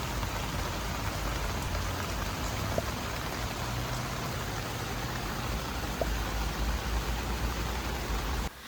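Steady rain drums on the rainfly of an REI Trailmade 2 tent during a rain test, a dense, even hiss of drops that stays loud and unbroken throughout, with no voices.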